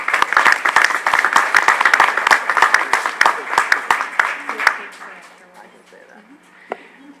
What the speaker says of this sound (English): So how about a huge round of applause for Heather Shush.